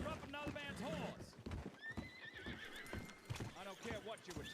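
A horse in the RedM WildRP video game whinnies and snorts over clip-clopping hooves, with a voice talking over much of it.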